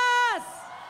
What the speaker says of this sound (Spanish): Y que se escuche fuerte el grito de las maestras